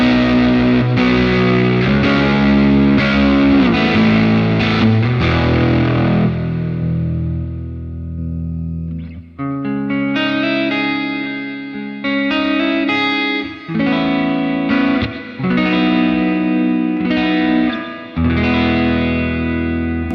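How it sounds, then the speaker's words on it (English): Thick, heavily distorted electric guitar chords played loud through a Line 6 POD Go amp model with drive turned up, strummed phrases with brief pauses and ringing sustain. "I increased the actual drive on the amp because I wanted to show you what it does"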